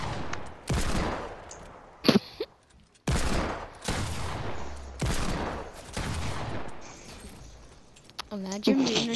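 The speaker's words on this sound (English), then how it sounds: "Did you know they upgraded the heavy sniper to where it shoots like different pellets?" Heavy sniper from a shooter video game fires pellet-style blasts in several loud, close bursts separated by short gaps, with people talking over the shots.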